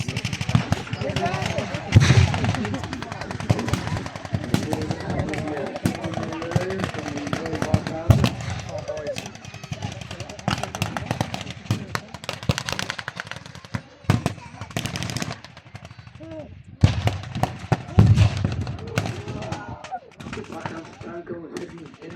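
Gunfire crackles through a wartime battle reenactment against Allied armour, with rapid machine-gun bursts and scattered rifle shots, some loud and close, others distant, under a running voice commentary.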